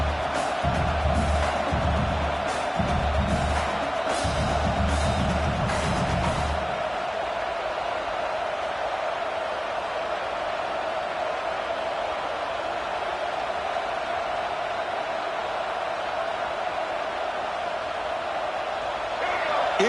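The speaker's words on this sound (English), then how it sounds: "It's early, but this crowd is fired up. Listen to this noise here." Fired-up crowd at an early-game football stadium roaring with rhythmic bursts of chanting and clapping, then settling into a sustained loud, distant wall of cheering noise.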